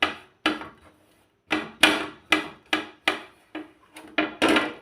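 Raw mango, medium-sized, rubbed over a grater in a home kitchen for mango rice, making a series of about nine short scraping strokes, close and fairly loud, with no talking.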